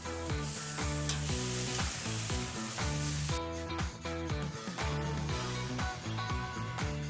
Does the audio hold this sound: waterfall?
no